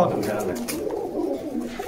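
Pigeons coo at a pigeon market where pairs are being sold, soft low throaty calls repeating close by beneath people talking.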